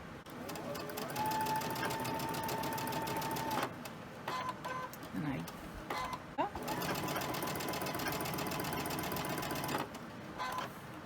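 A sewing machine stitches slowly over a pinned quilt seam with a steady, close, rapid mechanical chatter that briefly stops and restarts midway, while someone talks over it.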